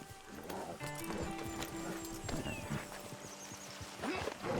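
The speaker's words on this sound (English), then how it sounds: "Load Anders onto the back of your horse there" Horse hooves clip-clop at a steady walking pace amid a busy outdoor soundscape in Red Dead Redemption 2, with faint whinnying and background voices.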